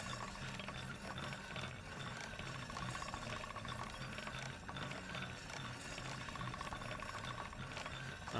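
A blade is sharpened on a grindstone in the video game Kingdom Come Deliverance II, giving a steady, dense grinding and mechanical whirring that runs unbroken and fairly loud throughout, with no talking.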